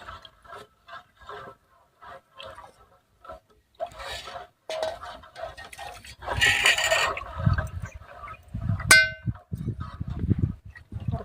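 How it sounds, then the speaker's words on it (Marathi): A spoon scrapes and clinks against a metal pot while stirring, with intermittent clattering; a person talks softly at times. "आणि आता पाण्याचा ढवळत राहायचं"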